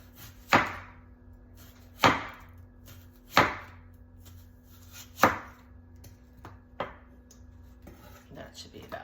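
A butcher knife chops portobello mushrooms on a board in a home kitchen: about five sharp, close strikes spaced roughly two seconds apart, the last ones softer, over a faint steady background hum.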